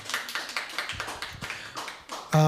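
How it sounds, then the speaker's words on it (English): Thin, uneven clapping from a small talk show audience, a handful of distinct hand claps in a loose rhythm that ends in a short, bright tonal sound. "A round of applause for Shelley, everyone."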